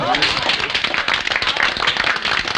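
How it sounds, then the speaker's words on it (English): A live studio audience applauds newlyweds Mr. and Mrs. Booth, steady broadband clapping for a couple of seconds with voices and chatter mixed underneath. "Round of applause, please."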